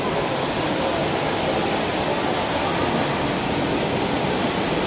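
Water from a fountain at the Marina Bay Sands shops in Singapore splashes in a dense, constant rushing roar, broadband and unbroken throughout, with no voices above it.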